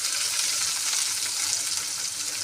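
Chopped onions and green chillies frying in a pan for poha give off a continuous bright, crackling sizzle, steady and close with no pauses and no voices.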